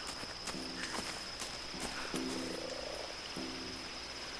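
A toad in the video game Tomb Raider croaks in repeated low, buzzy bursts, three spaced calls against steady ambient game noise and faint footsteps.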